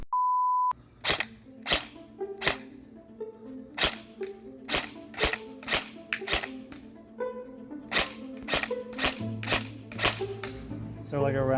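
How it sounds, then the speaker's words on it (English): Krytac Kriss Vector airsoft AEG firing a string of sharp, snappy single shots in an uneven rhythm, close and loud, after a brief electronic beep at the start. "Let's go shoot this gun."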